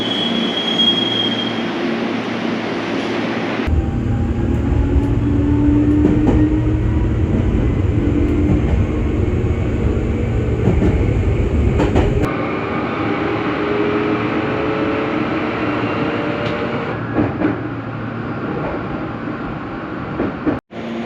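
A Meitetsu electric train runs toward Meitetsu Gifu, its steady rumble and rhythmic rail noise filling the cabin, with long squealing wheel tones and shifts in motor pitch as it travels.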